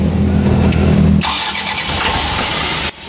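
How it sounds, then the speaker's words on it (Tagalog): A Mitsubishi Canter truck with a 4M50 engine cranks and catches, roaring loudly and unevenly for a moment with a rough, misfiring beat, then dropping to a harsher, uneven idle before cutting off abruptly near the end. "Pero kita nyo rin na palyado ang makina."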